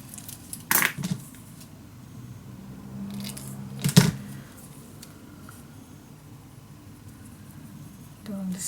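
Scissors cutting paper for a scrapbook mini album journal, a few short, close snips and crisp paper sounds separated by quiet pauses.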